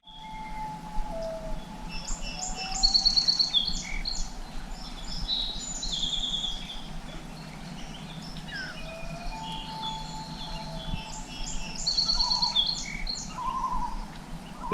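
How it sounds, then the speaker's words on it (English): Birds chirping at dawn at a camp in the Narrows of Lake George in the Adirondacks, bright high calls repeating in bursts over a low steady background hum. "the birds are wide awake"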